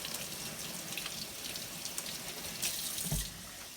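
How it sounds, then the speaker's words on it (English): Tap water runs steadily into a kitchen sink while hands are rinsed, a continuous close splashing hiss with a brief louder gush near the end. "Rinse my hands off here."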